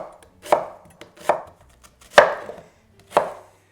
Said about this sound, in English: You want to peel and just roughly chop the onion.